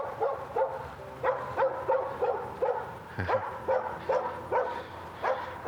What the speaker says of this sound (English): Pup barking is up there.